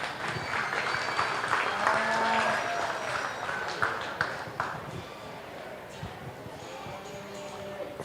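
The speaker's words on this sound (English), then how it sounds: "So let's give these kids a round of applause." Audience applause at a junior beef show, a steady close-packed clapping that holds through most of the stretch before thinning out, with a voice talking faintly over the crowd.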